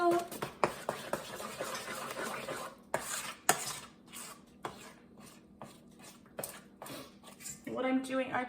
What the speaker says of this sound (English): I'm just taking my spoon and sort of smushing everything up against the side with my spoon